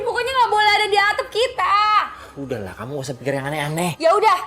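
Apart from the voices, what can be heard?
No everyday noises stand out.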